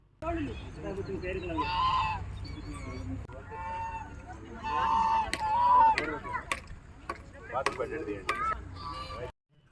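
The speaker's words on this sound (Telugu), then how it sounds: "ఆ కొలంలోని బాతుల అరుపులు వినండి" Ducks on a large pond facing a temple give repeated nasal quacking calls in bursts, some overlapping, at moderate distance, with sharp clicks scattered between and the sound cutting off near the end.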